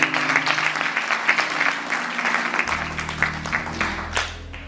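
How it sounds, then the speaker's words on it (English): Church congregation applauding Dad Walker with sustained, dense hand clapping throughout, steady and fairly loud with a low musical hum beneath. "Let's give Dad Walker another hand clap today."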